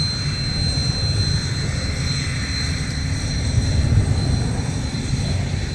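A business jet, an Embraer Phenom or Praetor, roars steadily at MSP airport with a loud, continuous engine rumble and a thin high whine, sustained and close throughout.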